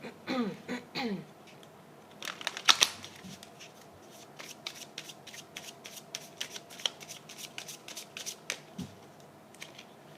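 Fairy oracle tarot cards are shuffled close up in a quiet room, giving a series of soft riffling flicks and sharp snaps that come in bursts and then give way to scattered lighter taps.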